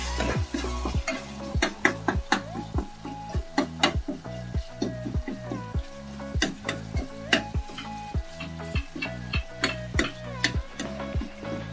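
Chicken curry being stirred with rice in a pot, a spoon scraping and knocking against the pot in a regular rhythm over a soft sizzle, close and clear with no talk.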